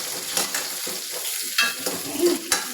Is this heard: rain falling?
no